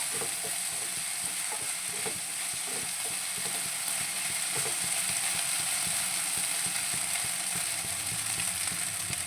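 Raw plantain poriyal frying in a pan, a continuous close sizzle with rhythmic scraping strokes of stirring, no voices.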